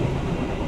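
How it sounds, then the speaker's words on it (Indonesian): Taksaka passenger train rolling past Karawang station, a brief, steady, close low rumble with no voices. "baru saja kereta api Taksaka melintas stasiun Karawang menyusul kereta api Fajar Utama Jogja"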